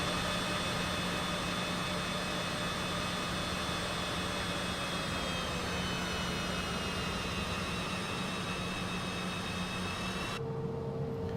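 A CJ4 private jet taxiing in a flight simulator game, a steady loud engine whine with sustained tonal hum and broadband roar that stays constant, shifting slightly in pitch near the end.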